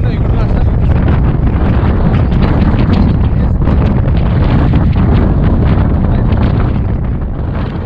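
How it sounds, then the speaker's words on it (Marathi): Strong, gusty wind roars across Kalsubai peak at night, buffeting the microphone in a loud, continuous rumble that barely lets up for the whole stretch. "जोरदार सोसाट्याचा वारा वाहत होता."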